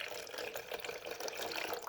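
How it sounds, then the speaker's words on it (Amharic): Water being poured into a dish while cooking in a home kitchen, a soft continuous splashing and trickling that stays quiet and steady. "ውሃ እጨምርበታለሁ"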